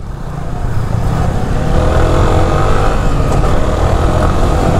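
A vehicle engine revving loudly at the start of a race, a close, dense roar that builds over the first second and then holds steady and strong.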